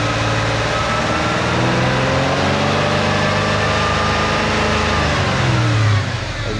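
A Ford Mustang with a 3.8L engine that misfires when hot idles steadily and loudly up close, a constant low hum with a slight dip right at the end.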